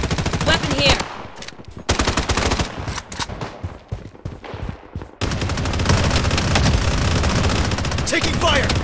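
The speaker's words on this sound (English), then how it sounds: "Taking fire!" Rapid automatic gunfire from the shooter video game Project BloodStrike, loud bursts of machine-gun fire and shots with brief gaps, then a sustained dense stretch of continuous firing, with game voice callouts over the action.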